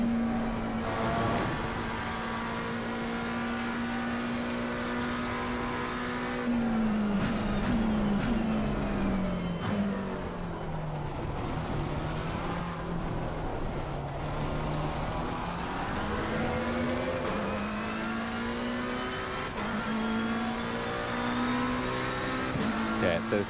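A McLaren race car in a racing video game lapping the circuit, engine droning steadily with its pitch rising and falling through gear changes and corners, plus brief tire squeal, continuous and fairly loud for the whole stretch.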